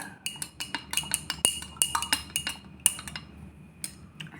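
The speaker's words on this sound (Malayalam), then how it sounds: "നമുക്ക് ഇനി ഒന്ന് ഇളക്കി കൊടുക്കാം" A spoon clinks rapidly and repeatedly against a glass while coloured liquid is stirred for a home science experiment, with sharp close metallic taps in an uneven rhythm and no voices.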